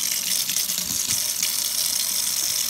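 Tap water runs into a sink while a paint brush is rinsed under it, a continuous bright splashing gush that holds steady and close for the whole stretch, with no talking.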